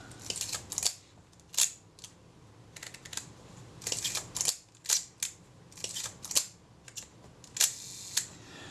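A Retina Reflex type 025 camera, freshly serviced, fires its shutter repeatedly in a quiet room, producing a series of sharp mechanical clicks spaced irregularly about half a second to a second apart.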